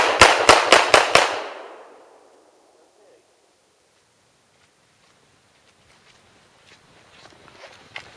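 Five rapid, loud pistol shots from a Hi-Point JHP .45 ACP fired while the shooter moves, evenly spaced within about a second and trailing off into echo, followed by quiet shuffling and handling noise.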